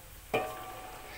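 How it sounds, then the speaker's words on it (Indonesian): Ketan keciput dough hits very hot frying oil with a sudden sizzling burst that settles into a softer, steady bubbling hiss, heard close with no talking. "Ini pastikan saat menggoreng itu minyaknya benar-benar harus panas ya teman-teman, supaya nanti hasilnya juga kriuk."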